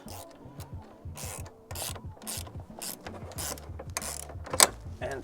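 A 10 mm wrench tightens a bolt while fitting tailgate storage to an HJ61 4x4, giving close, repeated ratcheting clicks and short rubbing scrapes in quick irregular bursts.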